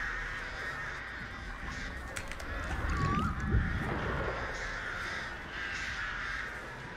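Crows caw repeatedly in Dead by Daylight, the Artist killer's birds, harsh calls close and clear over a windy, hissing ambient bed, with a short rising screech near the middle and no voices.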